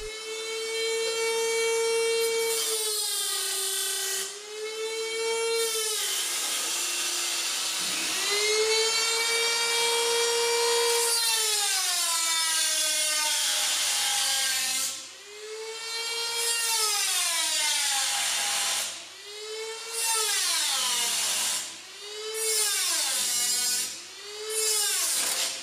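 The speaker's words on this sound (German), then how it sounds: "müssen zuerst die Schlitze mit einer Trennscheibe in das Blech geschnitten werden" An angle grinder with a cut-off disc slices slots into sheet metal along a steel ruler guide, a loud sustained whine that rises and dips in pitch as the disc loads and frees up in repeated passes, with no talk.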